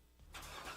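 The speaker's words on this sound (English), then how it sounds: "You hear that? That's the sound of America's only sports car." A Corvette sports car engine fires up, a brief rising roar of engine noise that swells quickly from quiet and holds steady at moderate loudness.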